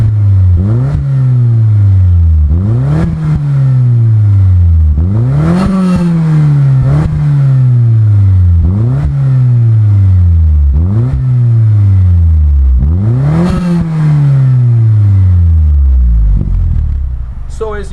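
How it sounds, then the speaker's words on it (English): A 1991 Toyota Starlet GT Turbo, a right-hand-drive JDM car, revs loud and close about eight times in a steady rhythm, each rise in pitch followed by a fall back toward idle. "the noise that this car makes is actually nice and pleasant"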